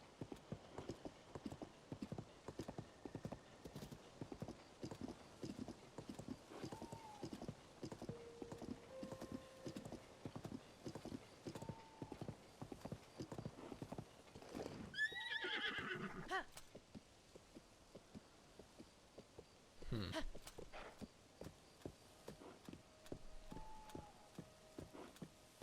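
Steady, rhythmic clip-clop of a horse's hooves in the video game The Legend of Zelda: Tears of the Kingdom continues throughout, with a couple of whinnies breaking through midway, quiet and even.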